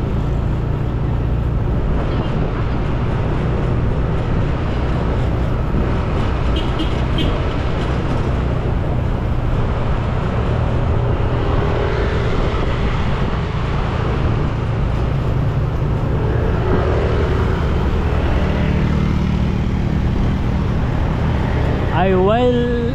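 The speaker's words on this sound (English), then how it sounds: "let's keep continue driving on Pentai Kuta Street" A car drives through street traffic on Pantai Kuta Street in Kuta, Bali, with a steady, loud wash of engine and road noise that continues unbroken throughout.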